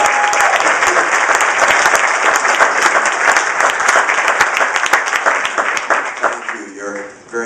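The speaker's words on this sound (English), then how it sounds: "Very generous to applaud" A crowd at a campaign rally for Mitt Romney in Manchester claps loudly and steadily, with cheering mixed in, before the applause begins to fade.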